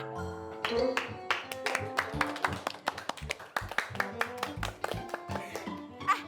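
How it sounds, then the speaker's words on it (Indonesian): A small group applauding, uneven rapid clapping that swells and thins over several seconds, fairly close and clear, with a few louder individual claps standing out. "Ini kayak ada ngasih aplaus gitu buat aku."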